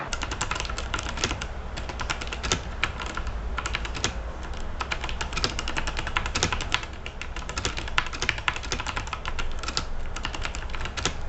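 Continuous typing on the switches of a Digital Alliance Meca Warrior X RGB mechanical keyboard, a steady close-up stream of crisp key clicks and clacks with no talking.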